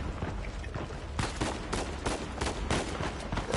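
Gunfire aimed at the player in Uncharted 4 on Crushing difficulty, heard as a dense stream of sharp repeated shots that strike in quick irregular bursts, loud and close, with no voices over it.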